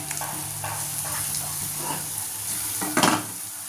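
Matar bhaji vegetables sautéing in oil over a low flame, a constant close sizzle with soft scraping stirs and a brief louder clatter of the utensil against the pan near the end.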